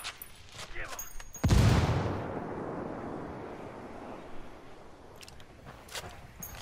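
A single loud frag grenade blast from the Ghost Recon game booms close by, followed by a long rumbling decay, with scattered faint shots before and after.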